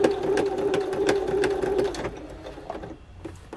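A sewing machine stitches fabric for a jacket with a steady, rapid mechanical whir and needle clatter that runs alone, then slows and thins out toward the end.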